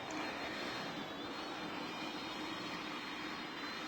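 Boeing 747 taking off in a flight video game: a steady jet-engine roar with a high whine on top, constant and even throughout, without voices.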